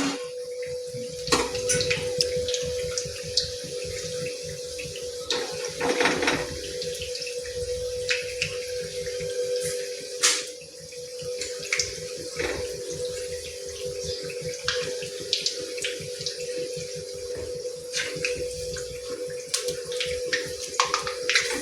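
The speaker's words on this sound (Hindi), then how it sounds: "दो मिनट एक साइड से इसे फ्राई करेंगे" Bread pakoda frying in a pan of hot oil, a steady dense sizzle with crackling pops and spits throughout, fairly close and continuous with no talk.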